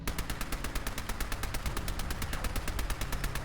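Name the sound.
10mm submachine gun firing in Fallout 4 video game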